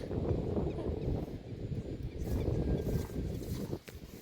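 Wind gusts across an open farm field, rumbling steadily and loudly against the microphone with a continuous low buffeting and no voices.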